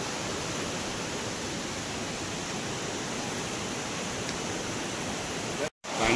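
River water flows in a continuous broadband rush, steady and fairly close, resembling a stream or small waterfall, with no voices and a brief dropout near the end.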